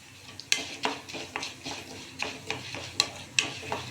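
Coriander seeds roasting with fenugreek in a dry pan make quiet, close scraping and clinking as a spoon stirs them, in irregular taps over a faint sizzle.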